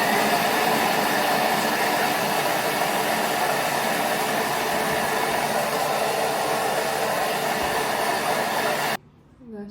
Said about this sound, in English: Then you're going to blend that up.